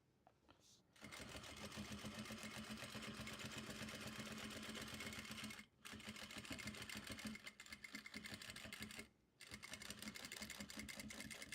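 Sewing machine stitching a C3P0 costume bustier, a fast steady mechanical whirr and needle rattle running for several seconds at a time, broken by two short pauses.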